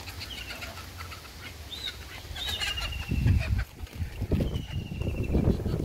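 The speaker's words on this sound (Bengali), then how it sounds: "এই যে রাজহাঁসগুলো দেখুন। না, এগুলো নর্মাল হাঁস, রাজহাঁস ওই দূরে" Ducks call in a village setting, a few thin honking quacks rising over steady outdoor ambience, with louder rustling and handling noise in the second half.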